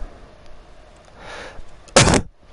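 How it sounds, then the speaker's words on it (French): A man coughs once, a short loud burst near the microphone, preceded by a faint rustling noise during a quiet moment in a live FIFA 18 gaming session. "je tousse"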